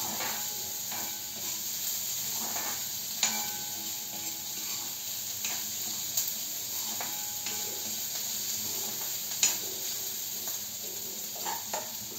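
Green beans (goru chikkudu) frying in a generous amount of oil in a pan, giving a steady close sizzle and hiss with a few soft stirring clicks and scrapes throughout.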